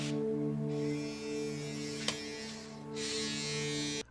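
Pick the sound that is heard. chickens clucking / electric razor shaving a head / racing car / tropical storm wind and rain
electric razor shaving a head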